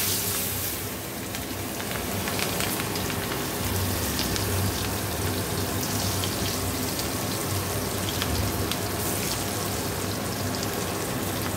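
Chopped onion sizzling in hot oil and butter in a wok, a steady dense crackle and hiss that runs without pause at moderate loudness, close up, with no talking over it.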